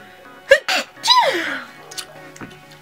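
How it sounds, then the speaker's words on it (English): A single sharp sneeze bursts out, followed by a short breathy vocal trail and faint movement afterward. "I have to sneeze."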